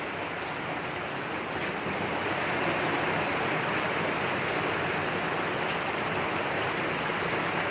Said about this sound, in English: That's serious rain.